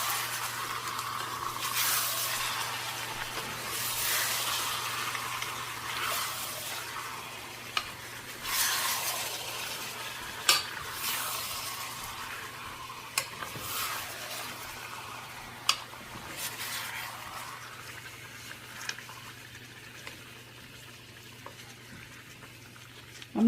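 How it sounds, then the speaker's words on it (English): About five pounds of washed chicken stirred in a pan, soft sizzling and frying under repeated scraping stir strokes, with occasional sharp clinks of a utensil against the pan. "Mix the chicken well."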